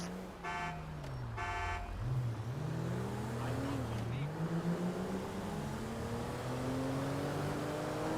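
Audi A6 (C6) driving in GTA 5, engine drone rising and falling through gear changes, steady and close, with a brief two-part chime or horn-like tone early on.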